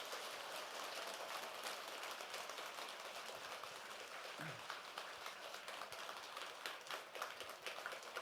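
Audience applause in a Buddhist temple dharma hall at Tongdosa, following a New Year Dharma talk by a precepts master monk. The clapping is steady and dense, fairly quiet and held at a distance, running evenly for about eight seconds.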